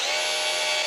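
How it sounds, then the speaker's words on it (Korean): A power drill bores into a wall to mount a space-wall panel with wall plugs, a steady, loud, high whine running unbroken and close throughout. "자, 이번에는 하단 부분을 뚫어 볼게요."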